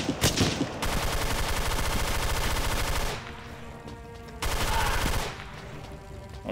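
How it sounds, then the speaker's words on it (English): Rapid machine gun fire in a video game set in catacombs, two long sustained bursts of loud, dense automatic shots separated by a brief lull, with no talking. "take the machine gun"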